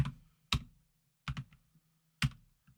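Keys on a computer keyboard tapped in a quiet room while entering references in a spreadsheet, four separate sharp clicks spaced unevenly with a low hum between them, close and fairly soft.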